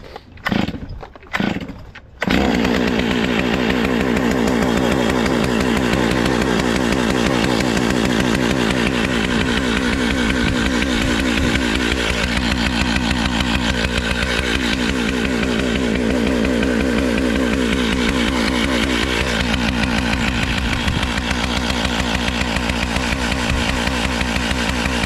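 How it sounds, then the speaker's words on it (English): After a few short pulls, a chainsaw fires up and runs steadily close by, its engine buzzing loudly with occasional revving swells. "I'm gonna warm up my chainsaw first"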